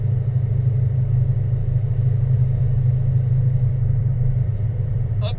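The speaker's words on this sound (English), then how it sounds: "driving up Highway 330" A car climbs mountain Highway 330 toward Big Bear in the San Bernardino Mountains, heard from inside as a steady, loud low engine and road rumble that stays even throughout, with no talk.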